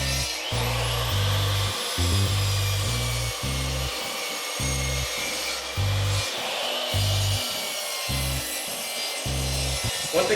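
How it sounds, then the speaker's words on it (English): A saw rough-cuts 2x6 lumber boards in half, giving a loud, close, rhythmic rasping of repeated strokes with short pauses between bursts. "Start off by cutting each of my boards in half. These are 2x6s, and these are rough cuts"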